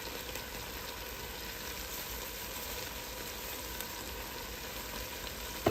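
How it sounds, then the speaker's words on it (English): Chopped onion and pepper fry in a pot for jambalaya, giving an even, continuous sizzle at low level with no talk. "We're going to put some pepper in there. We're going to put 1 chopped onion in there."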